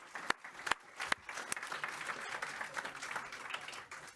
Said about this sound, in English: Can you just give a round of applause?